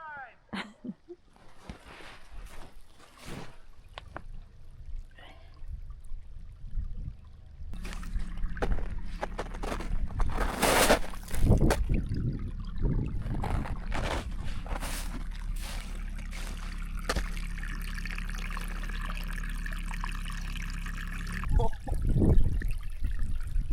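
Spring meltwater stream running and trickling near a well while winter snow lingers, a steady watery wash with splashing bursts, voices talking and exclaiming over it.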